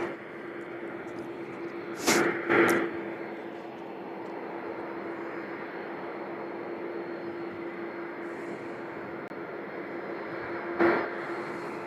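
A Boeing 747 at Louisville International Airport gives a steady, distant broadband roar throughout, with a steady tonal hum over it and a few brief louder bursts near the start and again toward the end.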